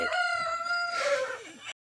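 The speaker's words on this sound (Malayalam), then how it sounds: "ഒടുക്കത്തിലെ കൂവലാണ് കേട്ടോ" A rooster crows once, loud and close, a drawn-out call that rises then trails off abruptly.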